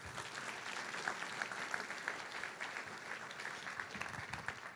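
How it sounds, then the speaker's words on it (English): Audience applause at a newly certified accountants' ceremony, a steady wash of many hands clapping at moderate, fairly distant level, with brief sharper claps standing out across the whole stretch. "Everybody, let's give Roger and Shelley a round of applause."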